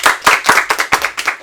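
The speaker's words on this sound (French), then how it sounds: "On peut l'applaudir." A small audience applauds a child presenter on a school broadcast, brisk irregular hand claps from a handful of people, close and lively, with no voices over them.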